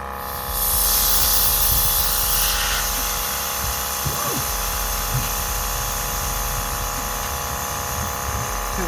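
Vevor pneumatic air jack lowering a vehicle in a garage, a steady hiss of released air rising at the start and then settling into a continuous, even rush with faint mechanical knocks.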